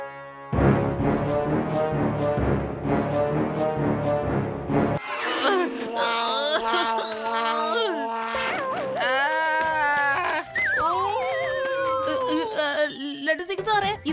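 In a Malayalam cartoon, a tiny man imitates a dog with a voice of yips, whimpers and barking sounds, after a stretch of lively talk.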